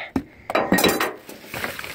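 A small glass item found while dumpster diving is handled up close, knocking and clinking against hard objects in a few quick, sharp taps.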